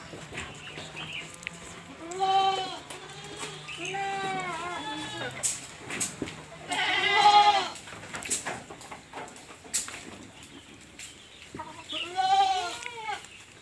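Goats bleating repeatedly in a farm pen at feeding time on ground odot grass, several distinct bleats close by with quieter background noise between calls.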